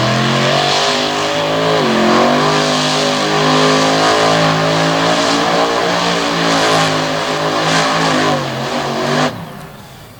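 A monster truck engine revs hard during a freestyle run at a 2021 Bangor, Maine show. The roar is loud and sustained and rises in pitch, then cuts off sharply near the end.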